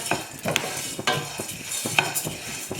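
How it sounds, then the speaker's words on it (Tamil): Wheat grains dry-roasting in a pan, stirred with a utensil: a steady run of scraping, rattling grain sounds with sharp scrapes and light crackles near 0.5, 1.0 and 2.0 seconds, close and moderately loud, no voices. "கோதுமை இந்த மாதிரி பொரியிற வரைக்கும் வறுத்துக்கணும்"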